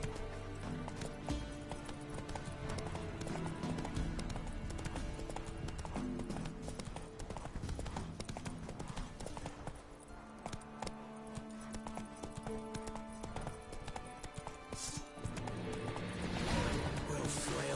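A horse gallops in The Witcher 3 with quick, steady hoofbeats that run the whole stretch, mixed under game music, occasional neighs and scattered voices, moderately quiet overall.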